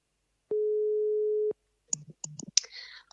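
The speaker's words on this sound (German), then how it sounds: "Wir rufen jetzt mal die Marit an." A single steady electronic telephone ringing tone sounds for about a second, then stops, followed by soft clicks and faint rustling.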